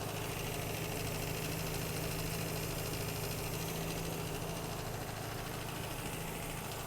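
Naturally aspirated 1.3-liter 13B rotary engine in a 1986 Mazda RX-7 GXL with 37,000 miles, idling steadily with a constant low drone and a fine, even pulsing buzz, heard alone without voices.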